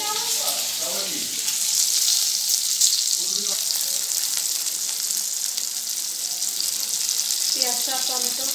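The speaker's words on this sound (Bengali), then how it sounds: "এবার মাছের আলুগুলো ভেজে নিচ্ছি" Potatoes for a fish curry sizzling in hot oil in a pan, a steady bright crackle throughout, with brief bits of voice in the background at the start and end.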